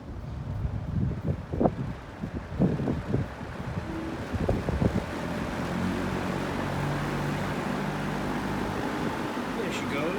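A vintage box fan running on its high setting gives a steady, even whooshing hum that settles in and holds after several seconds of brief knocks and clicks from handling, with a voice speaking briefly early on.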